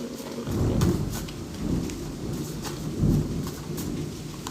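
Rain falls steadily during a thunderstorm while low rumbles of thunder roll in and swell several times, the rain hiss staying constant beneath them.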